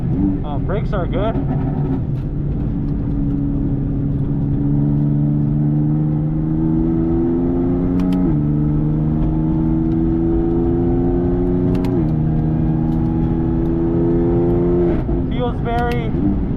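A modified 2019 BMW M2 Competition with a DCT gearbox drives on a track, its engine droning loud and steady from inside the car. The pitch climbs through each gear, with quick upshifts breaking the tone a few times.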